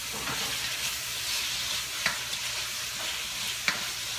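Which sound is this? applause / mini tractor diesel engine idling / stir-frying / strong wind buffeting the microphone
stir-frying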